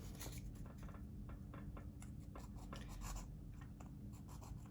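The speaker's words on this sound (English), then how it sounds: "And then come in and bend my sandpaper." Bent sandpaper rubbed over the tire treads of a 1/32 scale model Luftwaffe service cart, a faint, continuous dry scratching in quick back-and-forth strokes under low background hum.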